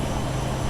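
A RealAir Turbine Duke descends in a flight simulator, with a steady, loud, broadband drone of the turboprop engines throughout the short stretch and no talking.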